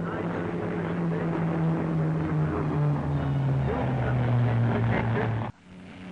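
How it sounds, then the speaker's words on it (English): Avro Lincoln testbed aircraft with a Napier Nomad composite gas-turbine and piston engine in the nose: a steady droning engine roar with shifting propeller hum, heard under narration, ending abruptly. "Another strange-looking aircraft, the Nomad Lincoln, is testing out a new type of composite engine fitted in the nose."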